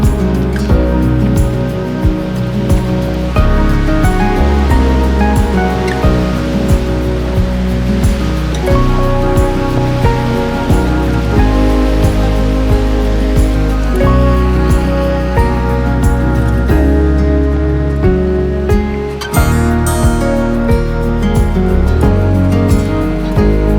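Continuous, steady rush of flowing water along a horse-riding trail, loud and even throughout, layered with sustained tonal sounds.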